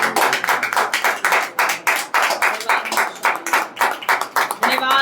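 A church congregation claps hands in thanksgiving during a Hindi-language worship service, with loud rhythmic clapping in steady bursts close by and voices faintly underneath.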